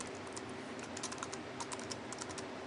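Rapid, close typing of code on a computer keyboard, a steady patter of light key clicks with no voices.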